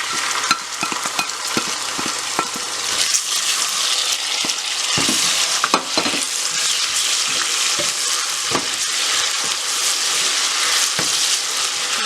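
Steady sizzling of onions frying in a pan, with occasional scraping and stirring clicks throughout, close and fairly loud, no talking.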